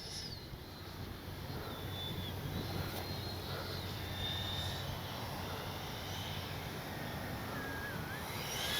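A Freewing 90mm Zeus RC jet flies a landing approach with gear and landing flaps down, its steady turbine roar holding at moderate distance across the whole stretch without a break.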